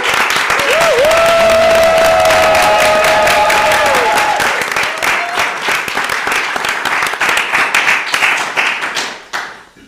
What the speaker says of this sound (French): Est-ce qu'on refait un applaudissement?